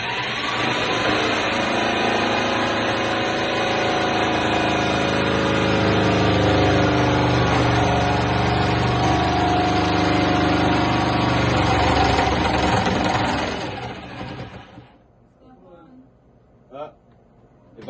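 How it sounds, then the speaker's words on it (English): A power tool cuts plexiglass at night, giving a loud, sustained mechanical whine with a vibrating drone for about fifteen seconds before it cuts off abruptly, leaving faint bumps and quiet. "But when we started cutting, it was noisy."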